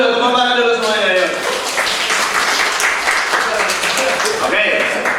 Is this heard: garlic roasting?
no